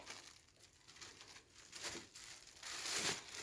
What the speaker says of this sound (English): you're going to get a smaller plastic bag